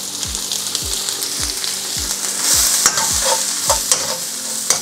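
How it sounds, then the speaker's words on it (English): Carrots and cabbage stir-fried in a pan with garlic for spring rolls, a steady loud sizzle with rhythmic scraping strokes of the spatula, about ten evenly spaced stirs, and no talk. "give that a good stir"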